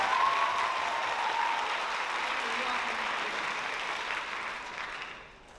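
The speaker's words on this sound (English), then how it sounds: "Let's give them all a big round of applause." Graduation ceremony audience applauding the named graduates, a dense, sustained wash of many hands clapping at a moderate distance that holds steady and then tapers off at the end.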